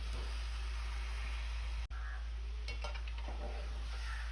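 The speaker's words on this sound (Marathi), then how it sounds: "आता या मच्छीच्या तुकड्याही आपल्याला मसाल्यामध्ये छान अशा परतवून घ्यायच्या आहेत" Pieces of hapus fish being turned in spice masala and hot oil, a steady close hiss of frying with light stirring scrapes and one sharp tap partway through, no voices.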